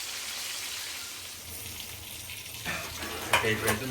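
Tandoori chicken pieces fry on a grill with a close, steady sizzle. Toward the end it grows busier, with louder spattering bursts and scraping as the pieces are turned.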